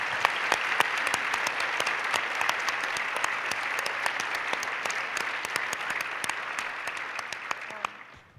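An audience applauds at a library event honoring a theatre education program, steady dense clapping from a sizable crowd that holds evenly and then fades out at the end.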